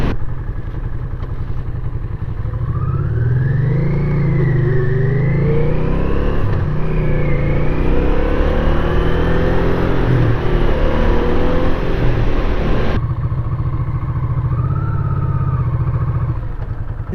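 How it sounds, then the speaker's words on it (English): A Honda Ascot motorcycle on a short ride, engine droning steadily and rising and falling in pitch as it accelerates and shifts, loud and close with road and wind noise, no talk. "That is our short little ride on the Honda Ascot."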